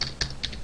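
Quick burst of three or four keystrokes on a computer keyboard, crisp close clicks with short gaps, alone without talk.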